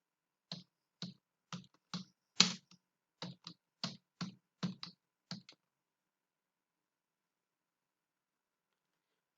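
Typing on a computer keyboard, about a dozen separate key clicks in an uneven rhythm, close and clear against a silent background, then stopping into a long quiet stretch.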